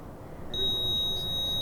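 A single high, steady electronic beep starts after a moment and holds continuously over a low background rumble at a cemetery at night.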